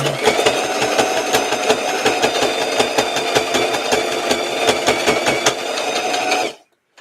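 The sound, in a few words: sewing machine stitching a doll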